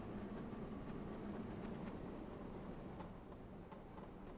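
Trams run along their lines in the Transport Fever simulation game, giving a steady, dense rolling rumble of wheels on rails that stays even and continuous throughout.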